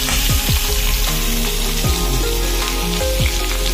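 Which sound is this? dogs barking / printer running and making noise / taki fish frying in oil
taki fish frying in oil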